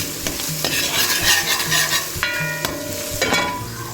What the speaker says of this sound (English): Make sure you mash up the clumps of ginger and garlic